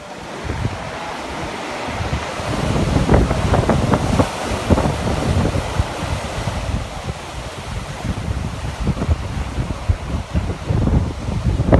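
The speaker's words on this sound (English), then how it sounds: "Beautiful waterfalls." A waterfall at Tintagel roars steadily, a loud broad wash of falling water with wind buffeting the microphone.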